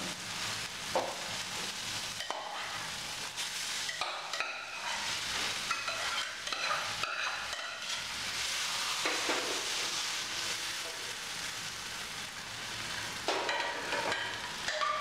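Tomatoes and brinjal sizzle and fry in a hot pan while a utensil stirs and scrapes them steadily, with no one speaking.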